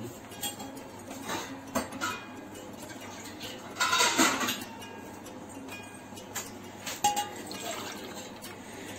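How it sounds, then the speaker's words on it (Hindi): Six cups of water poured into a pot of sugar, a steady watery splash with a louder gush midway and light clinks of a cup against the pot. "ये 6 कप मैंने इसमें पानी डाला है"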